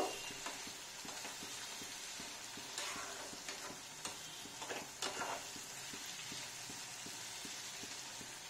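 Spicy chowmein ingredients frying in a pan produce a faint, continuous hiss with occasional soft clatters and a light, regular ticking underneath.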